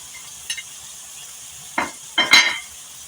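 Minced qeema fries with green chillies and browned onions, giving a steady low sizzle punctuated by a few short scraping stirs of a spoon against the pan, with no talking.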